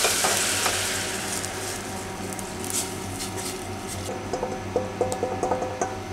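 Palabok sauce poured into a pan of sautéed garlic and onions sizzles and bubbles steadily, with stirring and a run of soft popping and clicking sounds toward the end.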